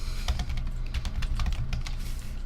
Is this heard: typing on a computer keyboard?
yes